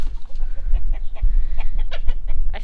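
Backyard chickens startled by a wagon cluck and squawk in a burst of agitated calls, close and loud, overlapping irregularly over low rumbling movement noise.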